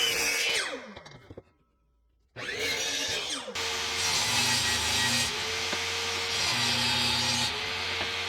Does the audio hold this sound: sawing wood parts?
yes